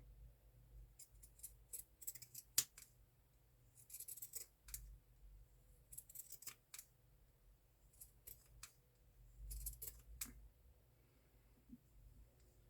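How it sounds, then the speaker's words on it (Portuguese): Scissors snipping small notches along a curved edge of fabric in a Christmas sewing craft, a series of short crisp cuts in irregular bursts, close and fairly quiet, with no talking. "Eu aqui vou dar uns picozinhos nessa volta. Mas aqui na parte de baixo. Cuidando para não cortar lá o tecido"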